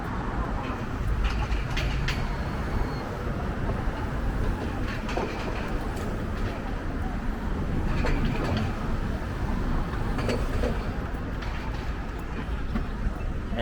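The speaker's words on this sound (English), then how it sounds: "it's a GO train passing by heading east" An eastbound GO commuter train passing through downtown Toronto on an early evening, a steady rumbling roll with rhythmic wheel clatter and occasional squeals, heard amid city background noise.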